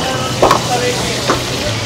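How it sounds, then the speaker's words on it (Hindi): Whole dried red chilies drop into hot oil at a roadside dhaba in Jaipur, a steady close sizzle with a couple of brief spattering bursts, with no voices. "यहाँ पे चिलीज डाली जा रही हैं,"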